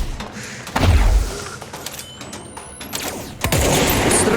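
Bursts of gunfire in the video game Control with sharp thumps and a mechanical clatter, loud and close, pausing briefly before a louder sustained stretch near the end.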